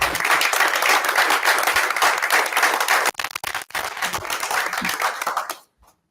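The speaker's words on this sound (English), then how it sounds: "we'll give them a round of applause" Sustained applause from an audience at a school board meeting, dense and steady clapping for about five seconds, briefly dipping near the middle before fading out at the end.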